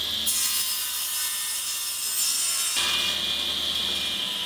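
A power saw rips steadily through a flooring board for a dining table, a loud continuous whine that shifts pitch partway through as the blade works the wood.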